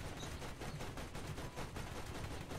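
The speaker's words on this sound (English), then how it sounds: "I didn't run him over, but I did shoot him." Rapid gunfire in the Borderlands video game during a modded playthrough, as a steady stream of close, loud shots pounding on without pause.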